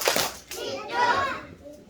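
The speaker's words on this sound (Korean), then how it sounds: "박수 세번 시작!" Children at a church-school worship service clap together in a few quick bursts, close and bright, blending with kids' voices and chatter around them.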